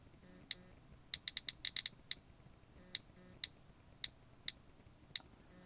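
Quiet clicking of typing on an Apple device while searching for the iFiles app, in irregular bursts of sharp taps with gaps between, faint and close.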